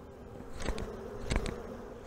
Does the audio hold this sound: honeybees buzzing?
yes